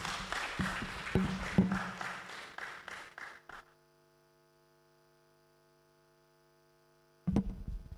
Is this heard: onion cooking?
no